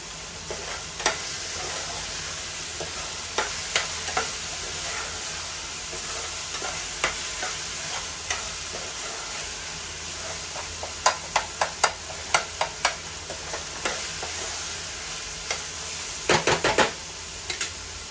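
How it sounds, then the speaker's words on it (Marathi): Onion and tomato sautéing in a pan for a dry akkha masur bhaji, a steady close sizzle with scattered spoon scrapes and a quick run of knocks against the pan, no voices. "कांदा पण आपला आता छान परतत आलाय. टोमॅटोही आपला मस्त असा शिजला आहे."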